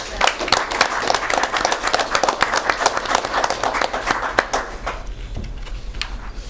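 A room at a city commission meeting breaks into applause for the fire department, dense close clapping from many hands that holds for several seconds and then thins out to a few scattered claps.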